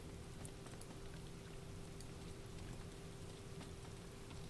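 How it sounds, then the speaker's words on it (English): Gentle rain in the Final Fantasy XIV video game: a quiet, even patter of falling drops with a faint steady hum underneath, continuous throughout and without talk. "Gentle rain sounds."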